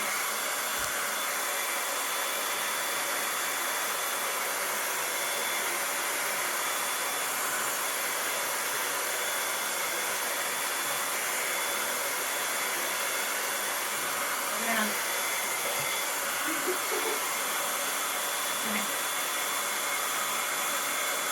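A hair dryer on its cool setting blows across drying stencil paste, a constant airy whir at even strength for the full length, with faint low voices now and then beneath it.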